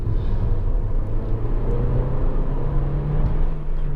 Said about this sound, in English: it doesn't make any difference or change to the engine note of the car